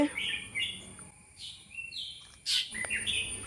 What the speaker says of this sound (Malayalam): ആദ്യം തന്നെ നമുക്ക് പക്ഷികളുടെ പരിഭവങ്ങൾ കേൾക്കാം